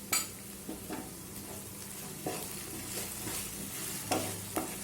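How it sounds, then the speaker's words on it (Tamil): Chilli chapathi masala with tomato sauce sautéing in a pan: a steady close sizzle broken by repeated scraping and stirring strokes of a spoon against the metal, with no talking. "நல்லா வதக்கிடுவோம்."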